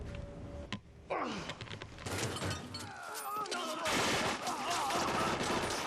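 Gunfire in a film shootout scene: bursts of shots and rapid volleys, loud and close, mixed with crashes and clatter and a few faint voices.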